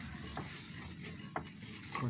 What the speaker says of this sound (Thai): คนไปเรื่อยๆ